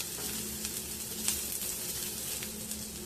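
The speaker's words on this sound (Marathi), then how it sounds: "तर कांदा मी याच्यात टाकत आहे कढईमध्ये आणि तो परतून घ्यायचा" Onion fries in a new iron kadhai being seasoned, giving a steady hissing sizzle with occasional soft scrapes and ticks from stirring, fairly close and without talk.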